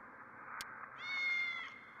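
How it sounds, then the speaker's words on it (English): A cat meows once in the video game The Guild, a clear drawn-out meow following a short click, over a steady background game ambience. "Of course, there's gonna be a fucking cat, isn't there?"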